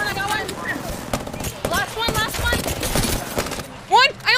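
Rapid bursts of automatic gunfire in a chaotic Apex Legends firefight, shots crackling amid busy game effects while several players talk over the action.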